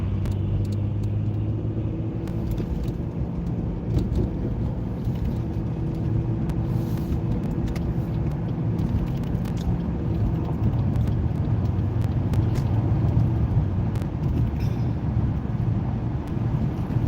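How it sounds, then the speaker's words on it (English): A powerful car's engine rumbles and builds as it gradually accelerates on a slick, wet road, a steady low drone rising in intensity with wind buffeting the microphone. "Gradually lay into that throttle and get that power up."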